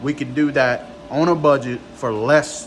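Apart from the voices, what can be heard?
No distinct noise like a dog, phone or traffic.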